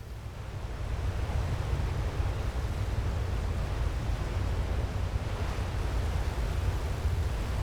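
Steady ocean waves and wind wash around a sailing vessel in Ships at Sea, a continuous loud broadband roar with no speech.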